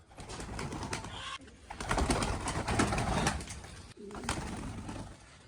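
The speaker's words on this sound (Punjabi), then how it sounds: "ਸਾਰੇ ਫੈਂਸੀ ਕਬੂਤਰ ਬਈ ਆਪਾਂ ਇਧਰ ਕੱਚੇ ਥਾਂ 'ਚ ਛੱਡਤੇ ਆ" Fancy pigeons coo nearby in repeated soft, throaty phrases over a rustling background, with no voices.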